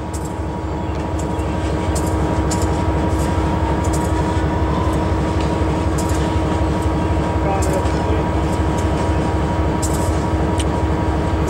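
A Norfolk Southern locomotive rumbles past with a heavy, continuous low drone and rhythmic wheel clatter, loud and close throughout, with faint higher clanks on top.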